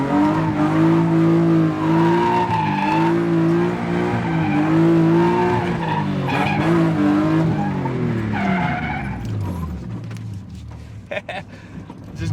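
A drift car engine revs and drones loudly while tires skid and squeal through a street corner, the pitch rising and falling, with a voice briefly heard over it.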